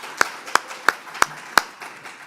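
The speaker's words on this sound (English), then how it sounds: "deserves a round of applause." Audience at a Mississippi history lunch talk clapping for an honoree: a handful of sharp, evenly spaced claps, about five in just over two seconds, close and moderately loud, with no voices over them.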